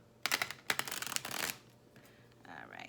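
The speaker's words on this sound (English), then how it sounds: "So y'all know I shuffle till we get a jumper, and that's when we start." Tarot cards are shuffled nearby in two quick riffling bursts followed by a longer run of soft flicking, then brief quiet and a faint murmur at the end.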